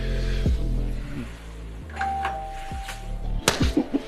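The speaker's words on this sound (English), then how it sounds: "The doorbell" A doorbell chimes over a loud, droning background, a ringing tone that lingers before other clattering sounds.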